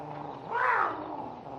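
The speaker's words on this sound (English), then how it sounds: "I'd sure like to hear that cat sound off" A cat sounds off as a radio show sound effect, a single short rising-and-falling yowl or meow, fairly close and alone.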